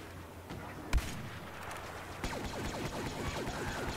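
Gunfire from the video game Star Wars Battlefront: one sharp, loud shot stands out early, followed by a dense stretch of rapid, repeated blaster-like bursts over a busy battlefield backdrop.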